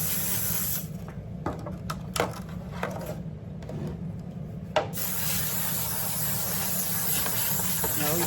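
Buttery-flavor cooking spray hisses from a can while baking a tomato soup carrot cake, a steady close-up spray with a few short pauses and clicks, continuing in a long unbroken burst toward the end.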